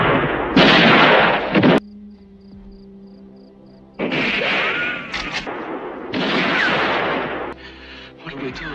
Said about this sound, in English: Meanwhile, a shootout erupts at the cemetery between the Rojos and the Baxters.